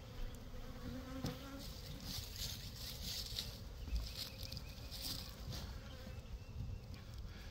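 Bees buzzing steadily around hives while being prepped for spring, a dense, continuous drone of many insects close by with no talk.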